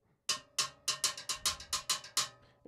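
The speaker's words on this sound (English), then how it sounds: "You could play with the tip of the stick, or it's a little bit different sound." Cascara pattern struck with the tip of a stick on the metal shell of a timbale, about ten sharp, bright clicking hits in an uneven syncopated rhythm, close and loud with no talking.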